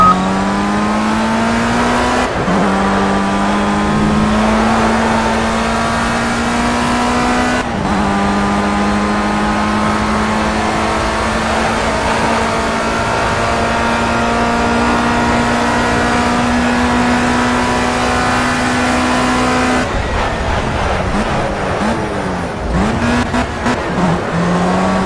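A race car in the video game Project Cars, played in VR, pushing a fast lap: a loud sustained engine whine climbing through the gears with sharp shift breaks, close and continuous for the whole stretch.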